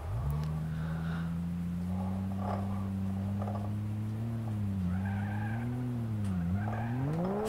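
A BMW station wagon with slightly faulty steering skids into a snowdrift in BeamNG Drive, a steady engine drone that rises and dips in pitch, with faint scraping noise over it.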